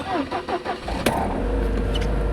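A Mercedes-Benz C180 W202 engine starting: a short cranking stutter, a sharp catch, then a steady low idle that runs close and loud to the end.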